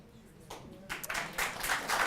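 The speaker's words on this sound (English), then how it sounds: "Please hold your applause." Audience applause breaking out at a congressional debate between Jeff Denham and Josh Harder for CA-10. Scattered clapping starts faintly, then swells into steady moderate applause from a crowd in a hall.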